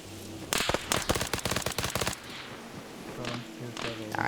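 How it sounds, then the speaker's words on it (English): A rapid burst of automatic gunfire crackles in a shooter video game's Oil Rig raid, a dozen or so sharp shots in quick succession, followed by quieter scattered noise and a couple of fainter reports, with brief talk. "but that guy far is now shooting"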